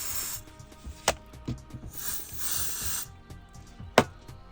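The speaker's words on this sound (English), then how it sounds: "just give it a little spray in" Contact cleaner hisses out of a spray can in short bursts into a Nintendo DS cartridge slot, quiet and close, with sharp clicks and handling taps between the sprays.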